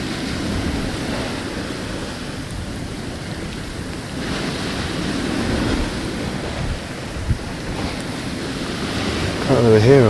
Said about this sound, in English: Can't really hear over the waves.